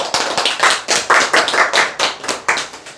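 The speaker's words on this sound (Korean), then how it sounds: "박수!" An audience claps together at a sales seminar, a loud, brisk burst of applause with sharp, evenly spaced hand strikes lasting a few seconds, no voices over it.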